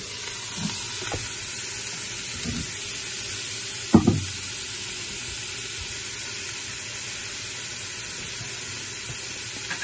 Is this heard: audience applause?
no